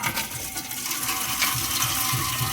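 Hot water splashes and hisses continuously as it is poured into a cooking pot in a home kitchen, filling the pot at close range with no talk.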